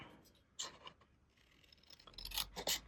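Scissors snipping the corners of a paper card panel, a few quiet close cuts with a soft scrape between them, no voices.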